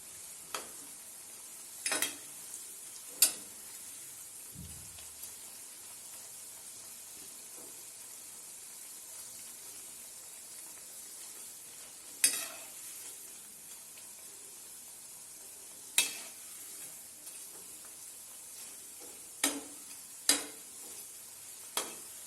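Spinach kofta frying in hot oil, a steady soft sizzle running throughout with occasional sharp crackles and spatters popping out at irregular moments, close and fairly quiet, no voices.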